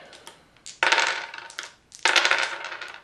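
Dice for the Fallout board game rattle and clatter in two loud bursts, each a rolling tumble lasting about a second, with a few lighter clicks before and between them.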